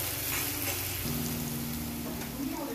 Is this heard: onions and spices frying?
yes